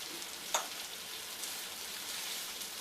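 Beef pieces for stew frying in a pan, a steady close hiss and sizzle with a small pop near the start, no talking.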